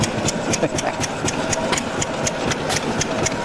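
An antique engine at a fair, its flywheels turned to start it, gives a steady rhythmic chuffing with regular clicking, about four beats a second, nearby and continuous.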